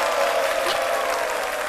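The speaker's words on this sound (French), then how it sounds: "Merci beaucoup de vous applaudir." Studio audience applause on a French-language midday television show, a steady dense wash of clapping that fills the whole stretch without any voices on top.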